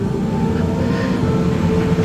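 KA Brantas passenger train at Semarang Tawang station, a loud, steady low rumble that fills the whole stretch without pause.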